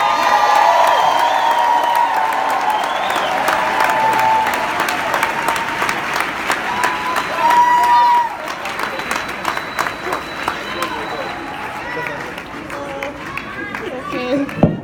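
A large company audience applauds loudly and steadily, with scattered whoops and cheers rising over the clapping before it thins out toward the end.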